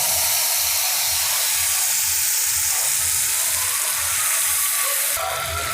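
Spice paste fried in hot oil for chana paneer gives a loud, steady, dense sizzle and hiss that fills the whole stretch, with a low pulsing bubbling underneath.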